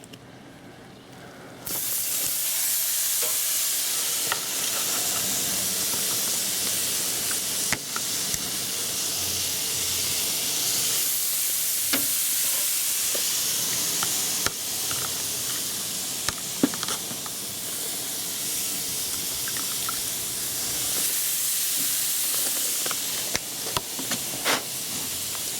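Thick, oversized steaks about 1.25 inches cut sizzle on a backyard barbecue grill, a steady close hiss running the whole time with scattered pops and crackles, after a quieter moment at the start.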